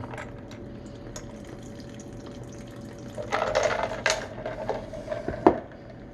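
Homemade mustard pours through a makeshift strainer, quiet trickling at first, then a louder, splashing liquid pour in the second half with a few sharp drips and knocks.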